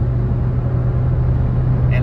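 A 2004-2005 Honda Civic EX with a 5-speed manual cruises on the highway at around 70 mph, a steady low engine drone and road rumble holding evenly from inside the cabin.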